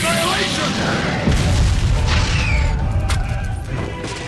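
A fire style attack bursts loudly in an anime fighting game, a dense roaring blast that surges and rumbles continuously with crackling layers, mixed with dramatic shouted voices.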